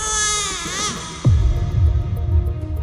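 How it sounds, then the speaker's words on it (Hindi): A baby wails in high, wavering cries that break off, followed by a low rumbling swell underneath. "सीजन 3 के ट्रेलर के एंड में एक बच्चे की रोने की आवाज आई थी"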